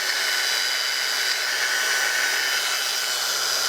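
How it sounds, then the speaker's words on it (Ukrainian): A PRO-CRAFT PWA220 cordless angle grinder spins up and runs with a loud, steady high-pitched whine, holding constant throughout with no talk over it. "Коли ви включаєте болгарку, бачите, всі світиться три."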